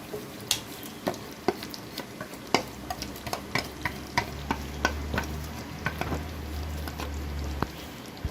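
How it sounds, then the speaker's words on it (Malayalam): Mutton curry being stirred in a pot, a spoon knocking the pot in regular distinct taps about once a second over a soft bubbling simmer, close and with no voices. "നന്നായിട്ടൊന്ന് ഇളക്കി കൊടുത്തിട്ട്"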